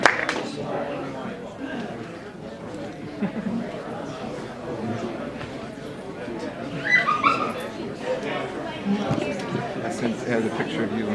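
A dog barks in short yips and whimpers repeatedly over about eleven seconds while people chatter and talk nearby at a gathering.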